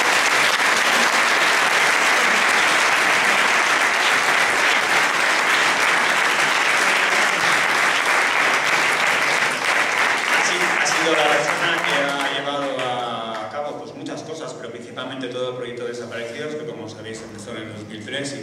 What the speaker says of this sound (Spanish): Te pido un aplauso para él